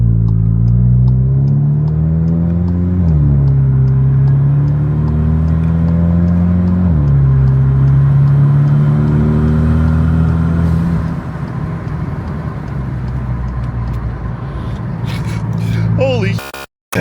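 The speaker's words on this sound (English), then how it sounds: "The turbo is so loud." A car's loud turbo spools and whooshes while driving, with engine tone rising and shifting in steps over a sustained drone; someone talks over it.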